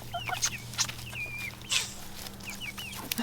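Backyard chickens cluck and chirp softly at close range while pecking at sticky apple goo, with short rising calls and scattered clucks over a low steady hum.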